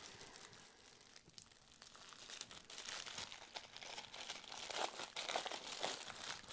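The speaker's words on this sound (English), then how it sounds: "there's going to be a lot of unwrapping sounds" Plastic wrapping crinkling as board game components are unwrapped: soft, close crackles and rustles that grow busier and a little louder toward the end.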